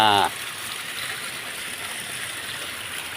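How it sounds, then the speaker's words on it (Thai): The Tham Soda waterfall at Wat Tham Soda in Nong Phok, Roi Et, tumbles over rock with a steady, broad rushing roar. A voice is heard for a moment at the very start. "โอ้ สวยงามจริงๆครับ น้ำตกถ้ำโสดา"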